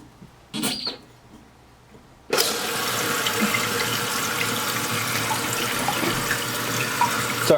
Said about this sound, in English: we're going to turn the water back on though